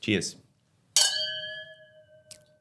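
Wine glasses of New Zealand Sauvignon Blanc clink once in a toast, giving a bright, ringing chime that sustains and slowly decays. A brief voice comes just before it, and a small tap follows near the end.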